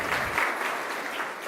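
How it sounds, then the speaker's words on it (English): An audience of parents and students at a design school orientation claps together in a brief, dense round of applause. "please give a huge round of applause for Sir"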